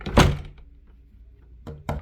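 An old hotel room door at the Pim Plaza Hotel in Ocean City, Maryland swings shut with a solid thunk, followed a second and a half later by two quick lighter knocks of the latch settling, close by and without talk.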